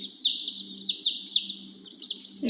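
Speckled Sussex chicks give a run of high, repeated peeping chirps, close and loud, with a soft low hum beneath and no talk.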